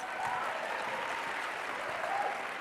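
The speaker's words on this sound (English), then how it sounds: "Another round of applause." Steady applause from an audience, a continuous wash of clapping that holds at an even level throughout with no voices standing out.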